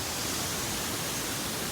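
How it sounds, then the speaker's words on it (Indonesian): The Pabeti Lakeri waterfall makes a steady broadband roar of rushing water, dense and unbroken like loud static, filling the short stretch without any pauses or voices. "Di bawah sana masih ada air terjun guys"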